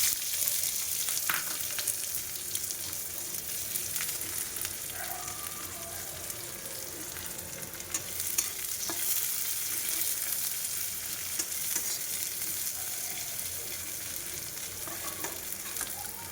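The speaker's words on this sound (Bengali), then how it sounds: "আমি পেঁয়াজটা ভাজছি" Onions fry in oil in a wok with a steady sizzling hiss, punctuated by scraping stirs and occasional clinks of a utensil, moderately loud and close with no talking.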